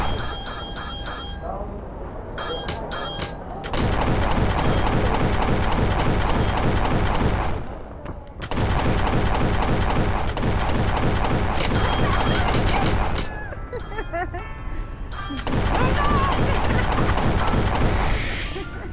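Rapid gunfire bursts in a VR shooter game, loud and dense, in long stretches broken by short pauses, with players talking over the shooting.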